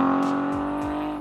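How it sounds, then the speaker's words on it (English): A car's exhaust blares at full throttle, a loud, steady buzzing drone with a few quick pitch sweeps as the engine works hard, close and continuous. "at full throttle, the exhaust note somewhat overwhelms the sound of the wind"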